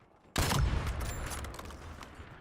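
One sharp, loud sniper rifle crack in Call of Duty hits after a brief quiet lead-in, then trails into a long rumbling echo and further faint game sounds.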